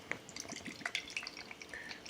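Black currant sour cherry beer poured into a glass, with splashing, trickling and small bright drips and fizz over about two seconds, close and fairly quiet.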